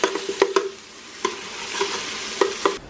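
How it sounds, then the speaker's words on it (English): Locro stew with a whole bay leaf being stirred in a pot, giving a few sharp scraping clinks of a spoon against the pot over a soft sizzle, with no one talking. "I'm going to stir it around"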